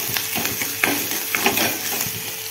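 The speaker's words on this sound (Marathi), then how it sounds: "त्याच्यामध्ये अद्रक, लसूण आणि मिरची याची पेस्ट टाकून घेते मी। हे चांगलं फ्राय होऊन निघतं।" Ginger, garlic and green chili paste frying in a pan with a soft steady sizzle, broken by a few light stirring scrapes and taps of a spoon.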